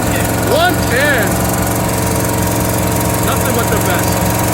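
A car engine, started for the first time in 16 years and fed 110 octane fuel, runs with a loud, steady droning idle throughout, while a few faint whistle-like chirps sit on top.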